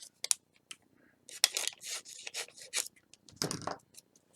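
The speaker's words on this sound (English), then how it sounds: "I'm going to cut off one of these, and let me find my scissors here" Scissors snip through deco foil several times in quick succession, crisp close-up cuts with short rustling pauses between them, and no talking.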